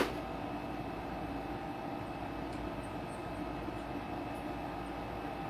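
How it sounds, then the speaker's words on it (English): A room air conditioner runs with a continuous low, rumbling hum at an even level from start to finish, with no talking. "Is the air conditioner too obnoxious of a sound on here?"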